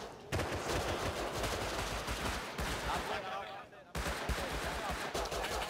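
Gunfire from AK and LR rifles in the video game Rust comes as loud, dense bursts of rapid automatic shots, with brief lulls between volleys.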